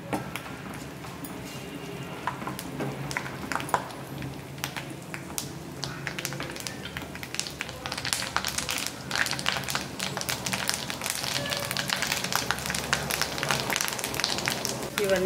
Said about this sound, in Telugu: దీనిలోకి 2 రెబ్బల కరివేపాకు కూడా వేసుకొని ఫ్రై చేసుకోవాలి